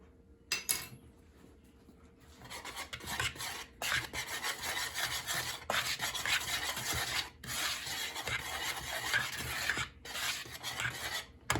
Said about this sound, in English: I'm adding a teaspoon of salt. And we're going to whisk the salt in.